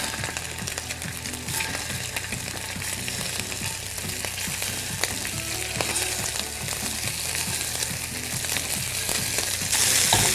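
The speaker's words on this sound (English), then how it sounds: "You want to hear actual cooking, actual sizzling" Meatballs sizzle and crackle in hot oil in a pan, a close, continuous frying hiss with occasional pops and faint clinks, no talking.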